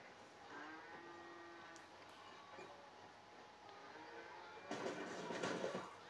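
Cattle in Red Dead Redemption 2 low and moo faintly over steady background noise, with a louder rustling burst near the end.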